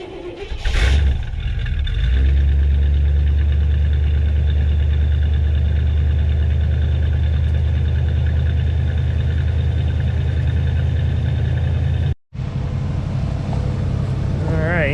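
An Oldsmobile engine cold-starts with a short, loud burst of cranking and catching, then settles into a steady, droning idle close by. The idle holds unchanged apart from one brief dropout near the end.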